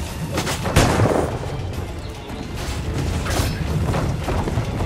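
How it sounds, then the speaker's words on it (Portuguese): A grenade explodes during combat in Assassin's Creed 4: Black Flag, a loud burst followed by rumbling booms and clattering battle noise that lingers for several seconds. "Sair de perto dessa granada."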